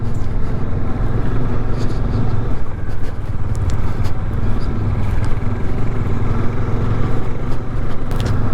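Motorcycle ridden off-road up a rocky, stony mountain track to Chanshal peak near Shimla, its engine a steady, close rumble that rises and dips slightly over the full stretch.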